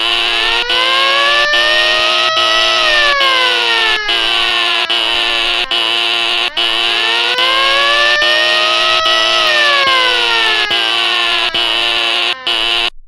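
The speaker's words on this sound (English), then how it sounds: "I'm going to pull up the fire alarm." A cartoon fire alarm wails continuously, a looping siren-like tone sweeping up and down in repeated cycles, loud and unbroken throughout.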